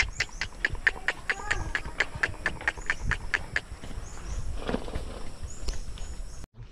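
Horse hooves clip-clop in a quick, even rhythm of sharp knocks, fairly close, with faint background noise and a brief lull near the end, as a horse hauls a load of harvested lansones.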